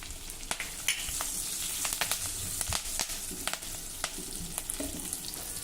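Garlic and curry leaves sizzle steadily in hot oil in a pan, with sharp spatters and pops scattered through the close, continuous frying.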